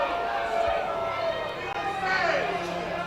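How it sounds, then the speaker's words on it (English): Baseball crowd at a Frontier League game between the Evansville Otters and Gateway Grizzlies grumbling and murmuring in displeasure after a ground-out to first, a steady broad wash of many voices with a few louder calls. "you can hear the displeasantries from the crowd"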